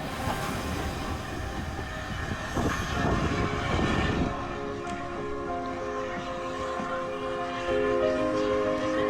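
A steam train in Scotland rolls along steadily, a continuous rumbling clatter with a low droning hum, moderately loud and unbroken throughout.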